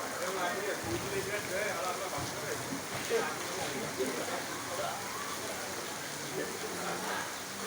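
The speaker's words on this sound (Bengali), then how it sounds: "গ্রামের দৃশ্য বৃষ্টির মধ্যে খুব সুন্দর একটি দৃশ্য" Steady rain patters down continuously over a village, a dense hiss of drops on surfaces throughout.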